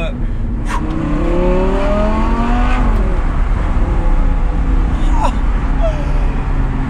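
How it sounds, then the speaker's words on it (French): A loud Audi R8 V10 engine with a new exhaust system revs continuously from inside the car, pitch climbing and dropping through gears, with excited voices exclaiming over the roar. "Oh, le bruit d'un V10, c'est juste magique."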